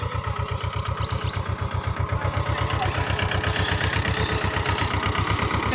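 A farm tractor idles nearby, its engine throbbing in a fast, regular low beat that stays loud and steady for several seconds, with no talking.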